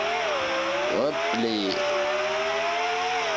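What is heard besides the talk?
car engine running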